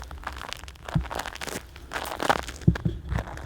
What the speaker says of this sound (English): You can just hear a little light crunching as I walk along.